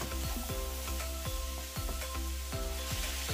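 Carrot and sliced cabbage are stir-fried in a pan, giving a steady sizzle with a regular rhythm of scraping strokes as the vegetables are turned, heard close and alone.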